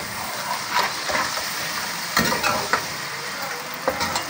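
Whole spices (cinnamon, cloves and chillies) fry in oil for fish biryani with a steady, close sizzle, broken by several sharp scraping stirs, no voices.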